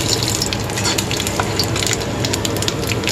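Panch phoron spices fry in hot oil for kadhi, giving a steady crackling sizzle with sharp pops scattered through it, close and alone.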